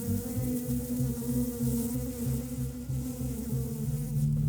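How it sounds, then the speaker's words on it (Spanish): Thousands of bees buzz around beehives, a dense, continuous droning hum close by with fluctuating swells in loudness and no talk. "con miles y miles de abejas zumbando por todos lados"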